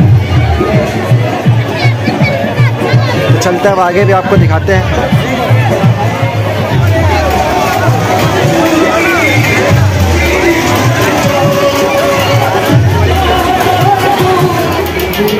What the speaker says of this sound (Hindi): और काफ़ी जायरीनों की भीड़ है